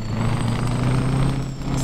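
Mack truck in a video game mod with a Mexican highway setting: a steady engine drone with a hissing air brake release, close and continuous over the short span.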